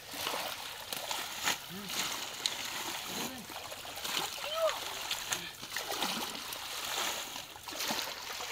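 In a small pond, people catching fish splash and slosh through the water while pulling up water plants. There are irregular splashes close by and running water noise throughout, with people talking over it.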